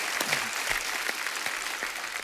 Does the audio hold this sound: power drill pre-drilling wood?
no